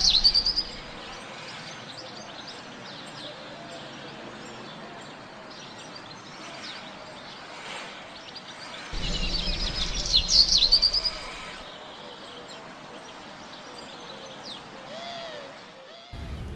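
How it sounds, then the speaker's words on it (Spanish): A bird chirps in short, faint tweets over a steady background hiss, with a louder burst of noise partway through. "es un pájaro."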